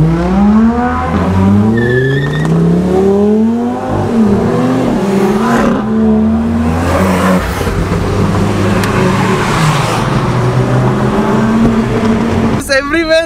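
Loud supercars, including a V6 Mercedes, drive and rev with rising and falling engine notes, crackles and tire noise, close and continuous. A person talks over the engines.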